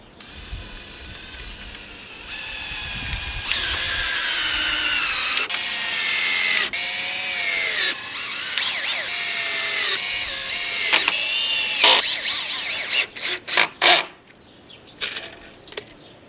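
Power drill driving screws into wooden fence boards, whirring in repeated bursts that rise and fall in pitch, with sharp clicks and a few quick stops near the end.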